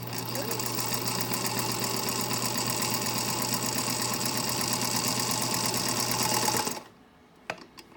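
A 1935 sewing machine runs steadily, stitching backwards in a continuous loud mechanical whir with rapid needle rhythm for nearly seven seconds, then stops abruptly, leaving a near-silent room with a couple of faint clicks.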